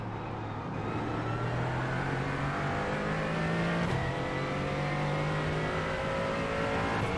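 A Mercedes GT4 race car in the iRacing sim at Sandown, its engine roaring loudly and steadily as the pitch climbs through the gears, with a brief passing whoosh and tyre noise mixed in.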